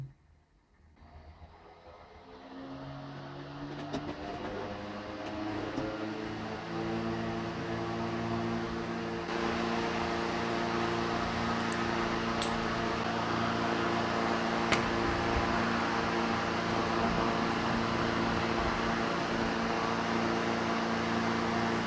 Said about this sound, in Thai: พัดลม ทำงานแล้วนะครับ